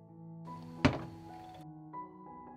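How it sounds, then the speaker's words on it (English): A single dull thunk as a metal pot filled with water and jars is set down on a kitchen stove, a short close impact over quiet steady background tones. "I put the pan down on the stove."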